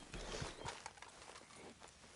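Horse hooves clip-clopping in the video game Red Dead Redemption 2, a short run of soft, fairly faint footfalls at a walking pace.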